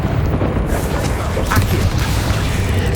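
Bombarda blast spells from Hogwarts Legacy, heavy booming explosions rumbling through a dense, continuous roar of game combat noise, with no clear separation between blasts.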